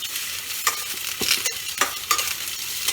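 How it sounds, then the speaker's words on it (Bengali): Potato and eggplant pieces frying in oil in a home kitchen, a close, continuous sizzle broken by several sharp scraping stirs of a spatula against the pan, with no voices. "তাহলে এইদিকে আমার আলু বেগুনও ভাজা হয়ে গেছে দেখুন।"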